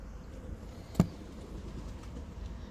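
Racing pigeons in a loft give a single short, quiet coo or flutter at about one second, standing out briefly from a soft, steady room hum.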